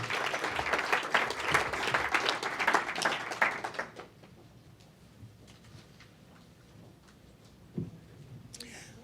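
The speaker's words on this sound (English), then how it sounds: "would you give her a round of applause as she comes?" Loud crowd applause fills the first four seconds, then fades to a quiet room with faint rustling and a brief thump near the end.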